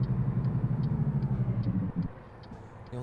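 A truck engine with a 6-speed gearbox in American Truck Simulator gives a steady low drone. Partway through, the drone drops away for a gear shift, and a faint regular ticking runs underneath.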